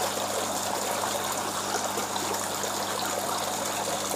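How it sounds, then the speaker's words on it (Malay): Water drains from a tilapia fish tank recirculating aquaculture system, a continuous close rushing trickle and gush that stays at a steady level throughout with no speech. "saya lepaskan air sedikit, saya nak bagi turunkan paras air"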